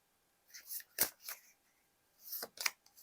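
A tarot card is slid and drawn from the deck in two short bursts of crisp shuffling and flicking paper, close and fairly quiet with gaps of silence between.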